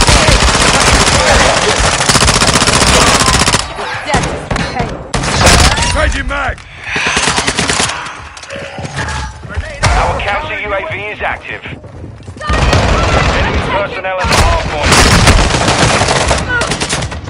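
Loud video game gunfire rattles in dense automatic bursts, breaking off briefly and then resuming hard near the end, with game voice callouts heard over the shooting.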